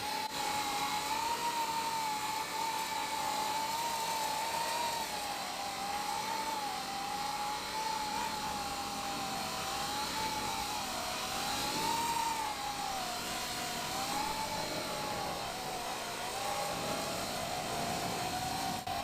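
A Coanda-effect propulsion drone flies at half throttle, giving a steady airy whine with a wavering tone that rises and dips slightly as it hovers, constant and fairly close with no voices.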